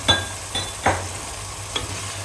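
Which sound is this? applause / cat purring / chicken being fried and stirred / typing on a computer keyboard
chicken being fried and stirred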